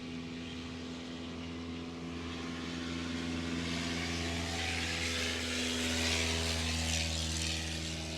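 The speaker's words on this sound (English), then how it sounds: "Got some incoming traffic. on the main runway. Looks Cessna-y back there." A Cessna-like small propeller plane comes in to land on the main runway at a Rocky Mountain STOL competition, its steady engine drone and broadband wind rush swelling slightly louder toward the end, with no talk.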